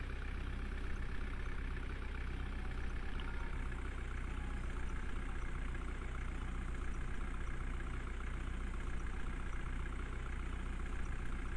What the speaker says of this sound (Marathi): हे आता रिवर्सनं पॉइंटला लावणार आहे JCB मी